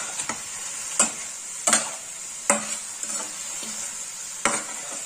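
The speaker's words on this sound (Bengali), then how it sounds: "দিয়ে ভালো করে একটু ওই মশলার সঙ্গে সবজিটা নাড়িয়ে নেব" Cauliflower and potatoes being stirred into frying masala in a pan, a steady sizzle underneath with a few distinct scraping strokes of the spoon spaced irregularly, close and clear with no talking.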